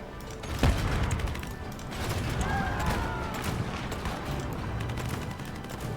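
Combat gunfire from the video game Civilization VII: one sharp shot cracks near the start, followed by a steady rumble of battle noise and faint mechanical creaks under low in-game ambience.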